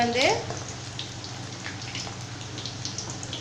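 Pieces of fish chilli fry in hot oil with a steady, close crackle and bubbling. A brief voice sounds at the very start, then the frying continues alone at an even level.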